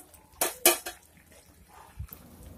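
A metal lid lands on a pot of masoor lentil and soy chunk curry cooking over medium-low heat, giving two sharp, close clanks in quick succession, followed by a soft faint knock.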